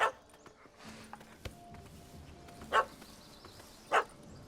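A dog barks in The Witcher 3: Hearts of Stone, giving three sharp, separate barks spread over a few seconds at moderate distance above a low game ambience.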